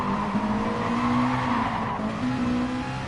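Race cars in a racing video game at Kyoto, scrubbing their tyres with a steady engine drone and a continuous tyre-squeal whine, loud and close throughout with no talking.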